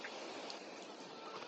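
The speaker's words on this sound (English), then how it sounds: "Okay, a bit of overnight rain, but a good day." Steady overnight rainfall in the farming video game Farming Simulator 22, a continuous even hiss of rain across the whole moment with no distinct individual drops and no voices.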